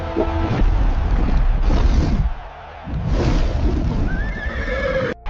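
A horse neighs loudly in a long, shaky whinny over a dense, noisy background, with a second, higher whinny toward the end; no speech.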